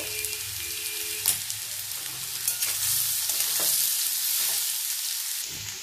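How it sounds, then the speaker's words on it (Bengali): Diced carrot and papaya with a little turmeric fry in a pan, a steady sizzle broken by scraping and stirring knocks, close and unaccompanied by voices. "গাজর পেঁপে একটু লাল করে ভাজা হয়ে গেছে।"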